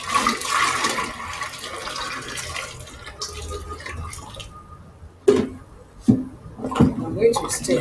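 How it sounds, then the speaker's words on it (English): Caustic soda dissolved in water poured into a liquid soap mixture during a large 60-litre batch, giving a continuous watery rushing pour with a few sharp clinks and splashes near the end, no talk. "So it's time to add caustic soda solution."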